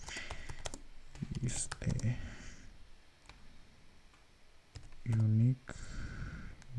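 Someone types code on a computer keyboard, tapping out quick bursts of close keystrokes and clicks, with someone talking over and between them.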